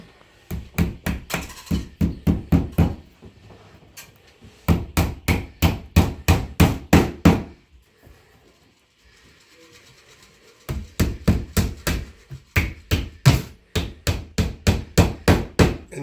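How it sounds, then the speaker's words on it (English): Nails are hammered in rapid bursts of sharp, ringing blows, about ten strikes per run with short pauses between, loud and close, while an IKEA cabinet is assembled. "you guys finish nailing that off?"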